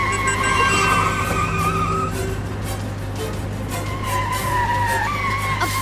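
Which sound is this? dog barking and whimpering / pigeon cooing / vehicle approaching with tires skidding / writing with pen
vehicle approaching with tires skidding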